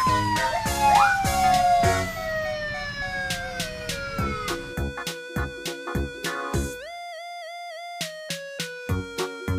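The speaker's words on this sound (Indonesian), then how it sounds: "Mobil polisi." A police car siren sounds in wailing sweeps for the first couple of seconds, followed by bright, evenly spaced musical tones and chimes.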